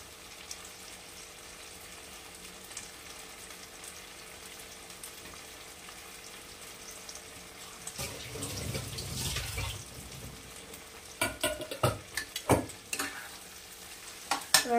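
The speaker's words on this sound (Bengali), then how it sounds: "এবার ফ্লেম আমি একদম কমিয়ে দেবো, কমিয়ে দিয়ে মাশরুমটাকে পুরো ভাজা ভাজা করবো।" Mushrooms rubbed with salt, turmeric and chilli powder fry in a little oil on a low flame, a steady soft sizzle giving way to louder scraping stirs and clattering bursts near the end, with no talk.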